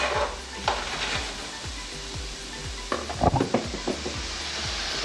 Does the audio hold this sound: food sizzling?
yes